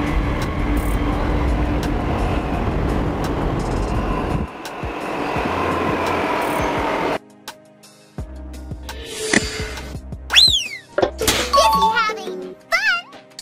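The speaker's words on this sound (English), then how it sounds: "Metro train. Common in big cities, it provides rapid and frequent transportation within urban centers." A metro train in a big-city setting rumbles and rolls past with a steady low mechanical drone, followed by a quieter stretch with squeals and sharp whistling tones.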